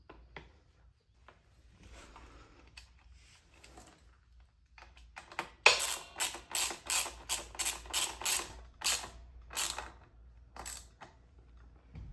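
Bolts on the chain guide of a 2003 Kawasaki KDX 200 dirt bike are tightened with a ratchet, giving a quick run of close, crisp clicking after quiet fiddling, with no voices.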